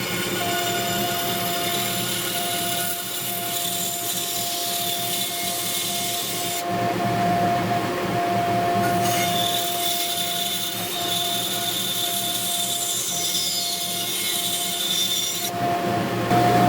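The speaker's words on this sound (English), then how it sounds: "Let's start with the heart over at the bandsaw, and we'll go ahead and get that cut out." A bandsaw cutting a heart-shaped blank out of wood in a workshop, a steady motor hum with a rasping blade sound that stays constant and close up throughout, with no talking.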